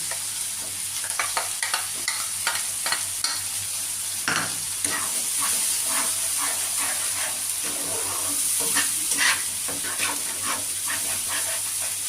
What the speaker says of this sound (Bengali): টমেটোটা হালকা হালকা ভাজা হয়ে গেছে এবার আমি পেস্ট মশলাগুলো সব দিয়ে দেবো